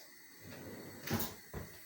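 A kitchen drawer slides open for a spoon while pudding is being made, making a short, quiet scrape and clack followed by a softer knock, in a hushed indoor room.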